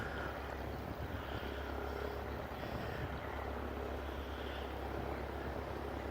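A Fieseler Fi 156 Storch propeller airplane flies at a distance, its engine a faint, steady drone over low rumbling background noise, with no voices.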